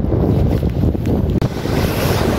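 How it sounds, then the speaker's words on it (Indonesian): Strong wind roars steadily at Teluk Penyu beach in Cilacap on a drizzly day, buffeting the microphone hard, with surf rumbling underneath and no voices. "Anginnya lumayan kenceng."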